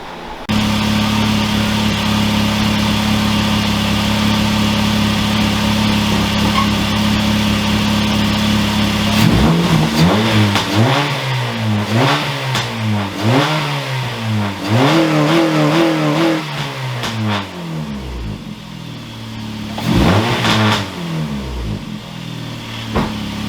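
A race car fitted with real racing parts idles with a steady, even drone, then is revved hard in a series of sharp rises and falls, loud and close, with no talking.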